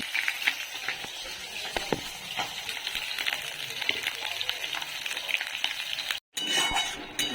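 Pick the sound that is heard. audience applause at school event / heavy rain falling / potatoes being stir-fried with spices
potatoes being stir-fried with spices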